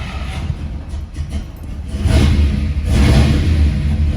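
A 1965 Chevrolet Impala SS with a 409 engine and a lumpy cam cranks and catches, its loud low rumble swelling from about halfway through and holding a rough, uneven idle.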